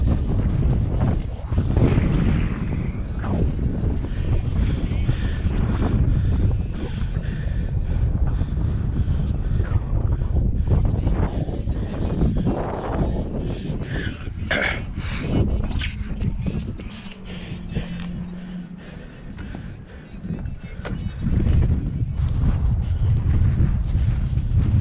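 Strong wind buffeting a microphone while cycling outdoors into a headwind, a continuous loud low rumble with gusty surges throughout and no clear speech.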